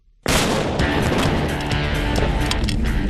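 A sudden loud blast erupts after a brief quiet moment, followed by a sustained roaring rumble and crackling debris for several seconds.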